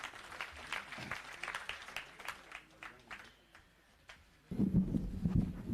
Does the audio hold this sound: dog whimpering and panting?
no